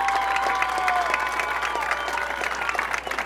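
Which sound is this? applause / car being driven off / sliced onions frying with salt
applause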